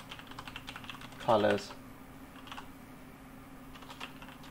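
Light keyboard clicks from typing a text prompt on a computer, soft and steady under room noise, interrupted by one brief spoken word.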